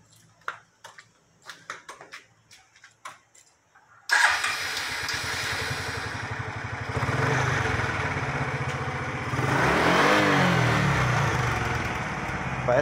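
A small motorcycle engine starts abruptly after a few scattered clicks and taps, then runs loudly, its pitch rising as it revs near the end.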